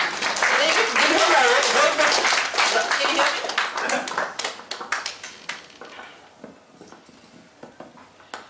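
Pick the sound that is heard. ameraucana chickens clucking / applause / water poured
applause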